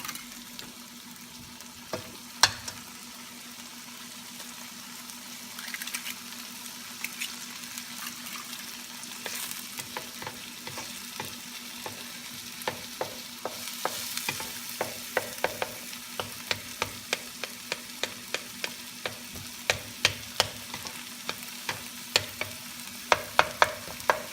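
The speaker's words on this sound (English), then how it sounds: "So we are cooking our scrambled egg here." Scrambled eggs cooking in a pan for Japanese fried rice, a soft steady sizzle under a low hum, broken by many sharp spatula taps and scrapes that grow more frequent toward the end, with no talk.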